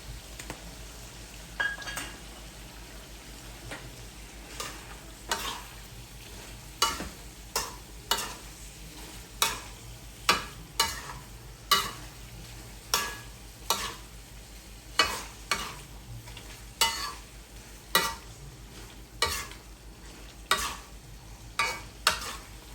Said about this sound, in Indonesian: dia terus mendidih sampai mengering